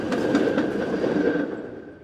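A historic San Francisco F-Line streetcar rolls along its rails with steady clickety-clack wheel rhythm and a faint high squeal, loud and close at first, then slowly fading as it moves away.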